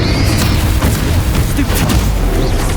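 Spell explosions in the video game Hogwarts Legacy, a dense continuous barrage of booming blasts and crackling bursts layered under game score, loud and unbroken throughout.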